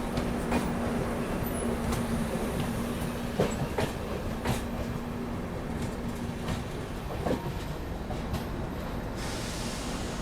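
The Howrah–New Delhi Rajdhani Express runs along the track with a steady, loud rumble and rolling roar, broken by faint rhythmic wheel clicks and occasional thumps, with no voices.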